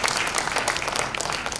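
Church congregation clapping, a brief dense burst of applause that is steady and fairly loud, with no voices over it.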